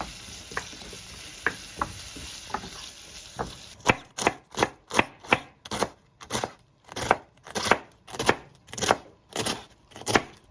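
Knife chopping Caribbean cabbage on a board, preparing it in chunky pieces rather than shreds for jerk chicken; after a few slower scattered cuts, a steady run of loud, close, rhythmic chops follows.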